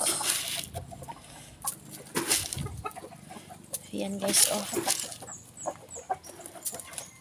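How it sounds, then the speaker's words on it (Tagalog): Small bantam chickens, roosters and hens on a farm, cluck softly in scattered bursts, mixed with faint rustling and someone talking nearby. "Maliliit na manok. Maliliit na rooster."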